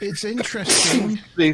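A single sharp sneeze bursts out in the middle of conversational talk, loud and breathy, and people keep speaking before and after it.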